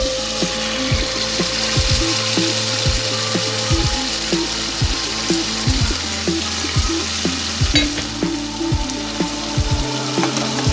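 Chicken cooking in a pan with mixed lentils for haleem, sizzling beneath repeated close metallic scraping and clicking from stirring against the pan, loud and rhythmic throughout without speech.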